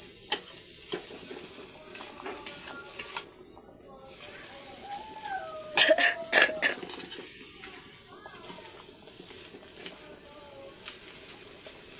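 A pan of egg curry sizzles steadily, broken by occasional scrapes and clinks of stirring; a voice speaks briefly over the hiss.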